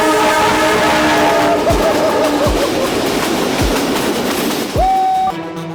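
A Pakistan Railway train rumbles loud and close through an 892-foot mountain tunnel in the Chitta Kala range, with steady rolling roar, rhythmic wheel thumps, and a horn blast near the end.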